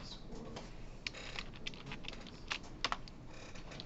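Someone types on a computer keyboard, quick irregular clacking keystrokes, faint but distinct, in a quiet room.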